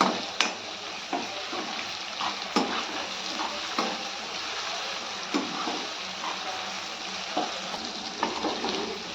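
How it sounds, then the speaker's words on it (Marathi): Onion and tomato sauté in a pan for shev bhaji, a continuous moderate sizzle with periodic spatula scrapes and taps at a steady stirring rhythm. "आता आपलं कांदा टोमॅटो हे सगळं साहित्य छान असं परतून झालेलं आहे बघा, मऊ झालेलं आहे."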